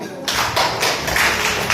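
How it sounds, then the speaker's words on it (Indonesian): Classroom students clapping their hands together, a loud burst of dense clapping close by that starts abruptly and continues in uneven pulses. "Tepuk tangan dulu."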